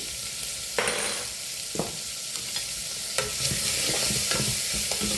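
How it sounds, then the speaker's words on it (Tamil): Chicken curry masala with salt and turmeric is stirred and sautéed in a pan, giving a faint background sizzle broken by several distinct scraping stir strokes of a spoon against the pan, with no voices. "எல்லாம் போட்டு நல்லா கலந்து விட்டுட்டு வதங்க விடணும்."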